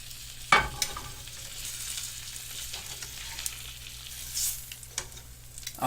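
A Philly cheesesteak grilled cheese fries in a pan, weighed down, with a steady close sizzle broken by a few sharp clicks and scrapes. No one speaks.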